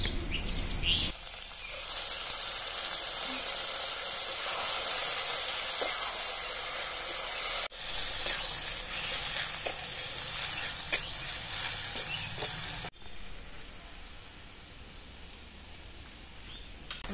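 Taro paste that was squeezed of its juice sizzles as it goes into hot oil tempered with crushed garlic, a steady bright hiss and crackle that runs throughout and changes with stirring.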